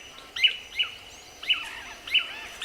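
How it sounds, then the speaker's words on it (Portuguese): Manakins (tangarás) calling in Brazilian forest: four short, bright chirping calls in an irregular rhythm over quiet forest ambience, fairly near and moderately loud. "Os tangarás estão espalhados por toda a floresta"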